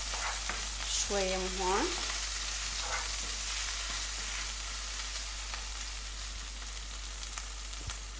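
Chicken pieces sizzle loudly in a hot pan with garlic while being stirred and turned, a steady frying hiss with scraping stirs, and someone speaks briefly over it early on.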